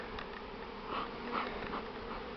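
A swarm of bees buzzes steadily around bushes as smoke drives them out, a dense, continuous hum at moderate distance with slight swells in loudness.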